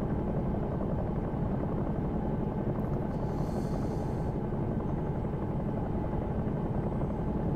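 A Bell 222 helicopter in the X-Plane 11 flight simulator, set up as a London Air Ambulance, gives off a steady, loud, close rotor and turbine drone, unbroken throughout with no voices.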